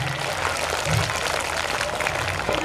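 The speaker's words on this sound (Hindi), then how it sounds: "तालियां बहुत हल्की है" A school audience at an annual function claps lightly and steadily, a soft, even patter of hands that continues for the whole stretch without building or breaking off.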